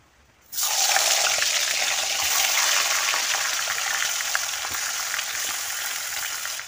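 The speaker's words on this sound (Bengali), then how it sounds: "কড়াইতে তেল গরম হয়ে গিয়েছে, আমি মাছটা দিয়ে দেব।" Pomfret fish drops into hot oil in a wok and sets off a sudden loud, steady sizzle that continues close and bright, fading only slightly over several seconds.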